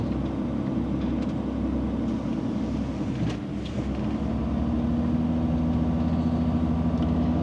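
A van's engine labours up a steep mountain road in Guinea with a deep, continuous drone and a heavy low rumble. The pitch changes slightly as it strains, and a brief dip comes midway before the drone steadies again.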